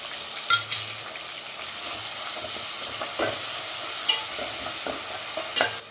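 Spice paste fries in a pan for a bangda fish curry, a continuous close sizzle broken by sharp scrapes and clinks of a spoon against the metal, with no voices.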